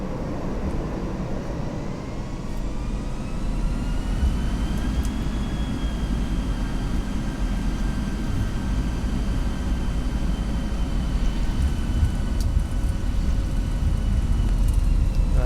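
Simulated Airbus A320 jet engines in X-Plane 11 rise in a steady, continuous roar while taxiing, with a rising whine partway through that then holds level; no talking.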